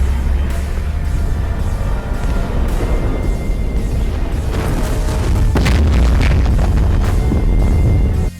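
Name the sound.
bomb explosion hitting evacuation ship, film soundtrack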